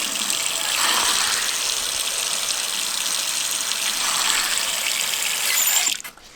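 Water pours steadily from a household tap for several seconds, a loud continuous hiss and splash that stops abruptly near the end.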